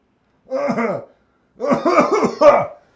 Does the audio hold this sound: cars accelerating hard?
no